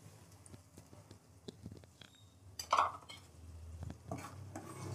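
A spoon scrapes and clacks through thick onion curry with tomato gravy in a pan, soft irregular stirring knocks with a faint simmer close by and one louder scrape midway.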